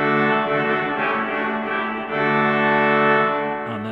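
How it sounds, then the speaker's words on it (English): The swell trumpet stop of a Harrison & Harrison pipe organ voiced on 7-inch wind pressure, sounding sustained brassy chords that shift pitch partway, bright and full, heard alone without talk. "And then we can contrast that against the swell trumpet,"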